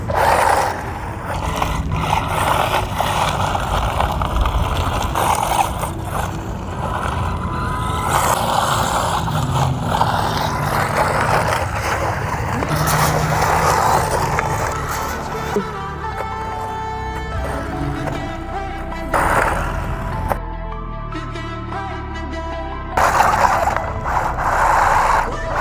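An Arrma Mojave Grom RC car runs off-road, its electric motor whining steadily under a rough mechanical clatter and ratcheting drivetrain noise. The sound stays loud and continuous, with surges and brief dips as it bashes across the terrain.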